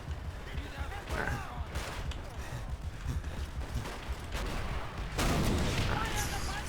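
Artillery and gunfire in the video game Call of Duty: World at War, a dense, unbroken battle din of booms, rumbling blasts and crackling shots that grows louder near the end, with indistinct voices mixed in.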